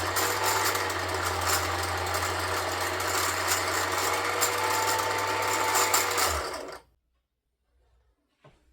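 A Kenmore mini sewing machine runs in a steady, continuous motor hum with rapid needle clatter for about six seconds, then winds down and stops, followed by near silence and a faint click.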